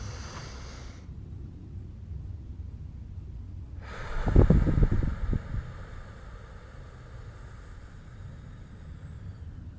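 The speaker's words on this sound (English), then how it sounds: "Let's all take a deep breath together." A single deep breath, drawn and released around the middle, is set against a steady airy background hiss in a calm guided meditation with a group breathing together. No talking is heard.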